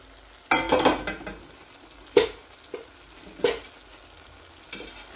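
Cabbage and vegetables frying with chicken in a pan, stirred in a few brisk scraping bursts over a low steady sizzle, close and fairly loud.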